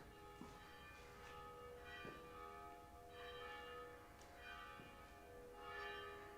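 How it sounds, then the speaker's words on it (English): Church bells ring out in Lecce, Puglia, a steady sustained peal of overlapping tones with periodic strikes, heard from a moderate distance indoors and fairly faint. "Can you hear the bells?"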